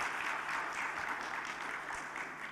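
An audience applauds the chairman at the launch of a public accountability committee's tenth anniversary event in a Ghanaian traditional area, a continuous distant wash of clapping, fairly faint and steady.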